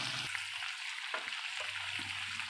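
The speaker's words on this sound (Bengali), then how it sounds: "দিয়ে এবার কষিয়ে নিচ্ছে আর একটু ভালো মতন।" Whole onions, whole garlic cloves and pre-fried potatoes being stir-fried in a pan, giving a faint, steady sizzle with soft stirring knocks and no talk.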